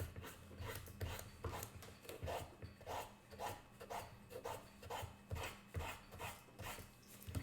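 Sandpaper rubs on the wooden head of a violin bow in a steady back-and-forth rhythm, about two strokes a second, each a soft close rasp with nothing else heard.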